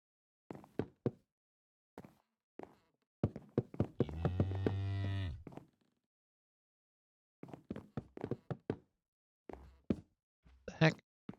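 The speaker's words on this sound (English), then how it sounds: "Cow does not appreciate being shushed." A Minecraft cow gives one long, loud, drawn-out moo in the middle, with short bursts of speech before and after it.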